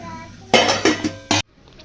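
A steel plate is set over a pot of simmering chicken curry, giving several loud, close metallic clatters and clanks in quick succession before abruptly going quiet.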